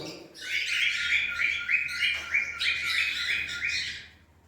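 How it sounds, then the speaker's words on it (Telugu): Cockatiels whistle and chirp in quick repeated bright notes, a lively run of pulsing calls close by, fading out at the end. "కాక్టైల్స్ అయితే భలే విజిల్ చేస్తాయండి మార్నింగ్ టైంలో"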